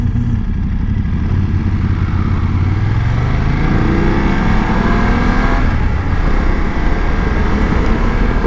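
Steady engine drone from a 2019 BMW 850 GS motorcycle on a ride near Winter Garden, Florida, heard from on board with continuous road and wind noise that stays loud throughout and has no talk over it.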